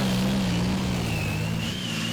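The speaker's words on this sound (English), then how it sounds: "Frank easing on the throttle, opening up his Rovia Meteor tank engine." A pulling tractor's Rolls-Royce Meteor tank engine drones steadily at close range at a tractor pulling championship, its deep tone shifting slightly as the throttle opens, loud and continuous.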